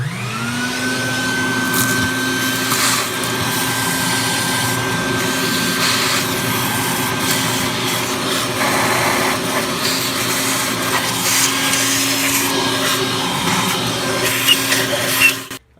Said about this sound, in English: So we'll vacuum all this up, any grit down here